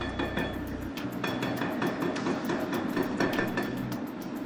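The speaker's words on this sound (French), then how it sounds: "Au volant de l'excavatrice équipée du marteau hydraulique, Léo s'attaque au pied du Mirador." An excavator's hydraulic hammer pounding the base of a concrete prison watchtower during demolition, a rapid, steady train of sharp metallic blows under a constant engine rumble.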